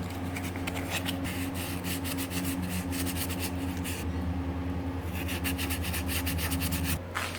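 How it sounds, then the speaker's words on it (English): Sandpaper of 400 grit rubbed over the sharp edges of a band saw pulley removed from a Harbor Freight band saw, giving a steady close scraping friction with a constant machine hum beneath, pausing briefly near the end. "I sand down the sharp edges with some 400 grit sandpaper"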